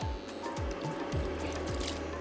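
A little water poured into a pot of jhangora (barnyard millet) biryani seasoned with biryani masala, a quiet, steady trickle and splash lasting a couple of seconds with no voices.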